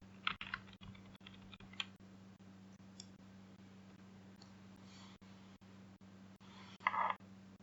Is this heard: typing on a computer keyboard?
yes